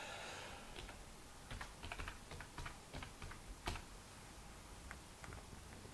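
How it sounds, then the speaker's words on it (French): Someone types text into a Microsoft Word document on a computer keyboard, a quiet, close patter of uneven key taps in short bursts. "Je tape mon texte matériel"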